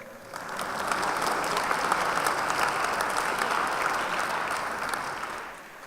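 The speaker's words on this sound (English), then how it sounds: "Let me ask you to give her one more round of applause." Sustained applause from an audience at a Founder's Day event after a young performer's stage performance, a dense steady wash of clapping that swells quickly and tapers off at the end.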